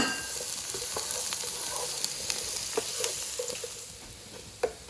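Squash sizzles and crackles as it is stir-fried in an electric skillet, a steady frying hiss with occasional sharp pops and stirring clicks.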